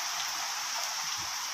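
Heavy rain pours steadily in a close, dense hiss with no breaks, falling during a rainy-weather outdoor chicken roast.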